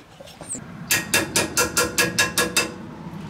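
A hammer striking metal during Dana 44 straight axle work, nine sharp ringing blows in a steady rhythm, close and loud, after a brief quiet start.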